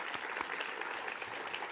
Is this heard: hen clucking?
no